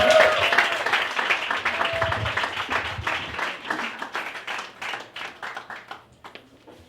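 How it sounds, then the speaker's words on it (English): A comedy club audience applauds comedian Brendan Murphy, dense clapping near and loud at first, then thinning into scattered, slower claps that fade toward the end. "Y'all give a big round of applause, ladies and gentlemen."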